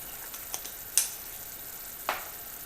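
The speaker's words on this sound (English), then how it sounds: "Keep stirring it until that butter is completely melted." Butter melts with nutmeg, cinnamon and clove in a pan for pumpkin fudge, a soft, low sizzle under which a spoon stirs, with two or three faint taps against the pan.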